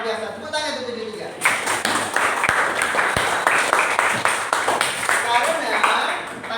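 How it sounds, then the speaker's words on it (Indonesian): An audience breaks into steady applause after a short spoken lead-in, a dense wash of clapping that carries on to the end with voices over it. "Tepuk tangan untuk 73."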